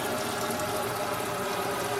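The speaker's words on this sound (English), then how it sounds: "We have running water." Water runs steadily from the kitchen and bathroom faucets of an RV at a workamping campsite, an even, continuous rush that stays loud and unbroken throughout.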